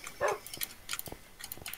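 Tame wolves in the Minecraft video game bark several times in short, scattered yips, fairly faint and without speech over them.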